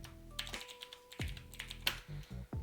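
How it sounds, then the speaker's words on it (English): Keys on a computer keyboard clatter in a short run of uneven taps, close and fairly quiet, as login credentials are typed at a desk. "Type in my credentials."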